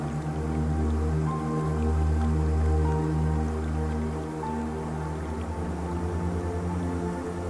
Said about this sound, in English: Listening to the water flow